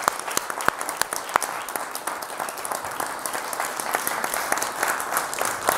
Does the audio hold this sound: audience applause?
yes